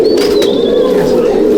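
Malwai pigeons at a Halisahar loft give a loud, sustained rolling coo close by, with a faint higher chirp drifting over the top.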